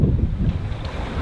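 Wind buffeting a microphone aboard a sailboat at sea in a 15–16 knot breeze, a loud low rumbling roar with a faint wash of water underneath, brief and continuous.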